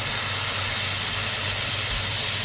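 Onions frying in a pan for a Kerala fish curry, a continuous loud, even sizzle with a close, dense hiss throughout and no pauses.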